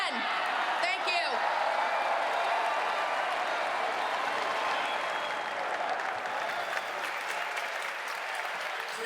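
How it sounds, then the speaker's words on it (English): Convention delegates on the floor at the Republican National Convention stand, cheer and applaud, a dense sustained wall of clapping with whoops and shouts that holds loud throughout. "The delegates, some of them coming to the floor, are standing up, cheering on Shelley Moore Capito"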